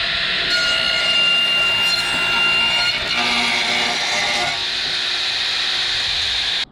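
A saw cutting a 45-degree miter through wood, a loud continuous whining buzz with a steady grinding rasp that holds for several seconds, then stops abruptly.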